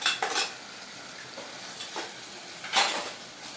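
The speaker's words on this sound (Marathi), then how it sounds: "हे सर्व चांगले परतून घेऊ" Chili powder, turmeric and spice masala being sautéed and stirred in a pan, with a few soft scraping strokes of a spoon against metal over a faint sizzle, no talking.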